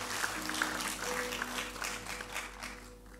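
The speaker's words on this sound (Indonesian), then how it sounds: "Di momen ini baik untuk kasih tepuk tangan yang luar biasa buat Tuhan kita." Scattered applause from a church congregation during a service, a soft steady patter of clapping heard from a distance with hum in the background, fairly faint throughout.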